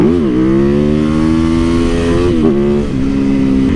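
Aprilia SXV 550 supermoto motorcycle engine revving, loud and close, with a quick blip up then a sustained high idle and a brief dip near the end.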